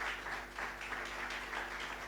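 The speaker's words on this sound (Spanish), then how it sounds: "¿Cuánto le doy un aplauso al Señor?" Congregation applauding during a Thursday church service, a steady wash of many hands clapping at moderate level for the whole stretch, with no talking.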